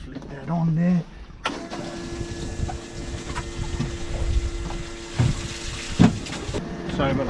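A small pump on a fishing boat runs steadily to fill the live well with water, a continuous mechanical whine and hum with gurgling and a few knocks, preceded by a brief voice.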